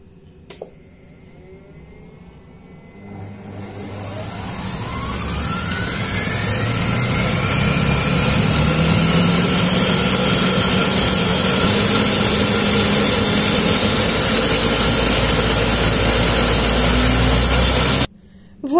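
Blender whirring through fennel soup, its motor climbing steadily in pitch and loudness as the speed rises from 6 to 10, loud and close, then cutting off near the end.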